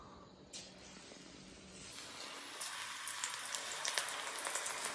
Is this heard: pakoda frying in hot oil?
yes